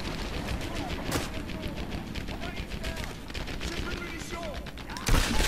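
Rifle fire in the World War II shooter Medal of Honor Airborne, set around Nijmegen: rapid, dense gunshots crack steadily through a busy battle soundscape, with a louder burst near the end.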